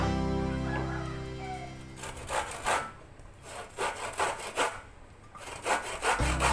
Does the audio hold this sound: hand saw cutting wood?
yes